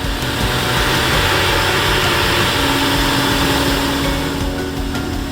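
A 1/4-inch five-flute Multicut XF end mill spins at 2,120 RPM, cutting a steel wall at 8.3 inches a minute, giving a loud, steady, dense machining roar with a constant tonal whine throughout, close and uninterrupted.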